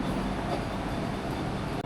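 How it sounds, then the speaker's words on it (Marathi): A packed local train pulls into a busy station, its rumbling roar loud and steady and close by throughout the short moment. "तर आमची पण ट्रेन आलेली आहे आता."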